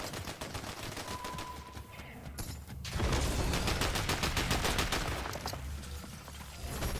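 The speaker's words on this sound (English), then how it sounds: "Gunfire in the sewers." Rapid gunfire rattles through sewers in a video game, dense automatic bursts running almost without pause and swelling louder partway through, with echoing mechanical clatter underneath.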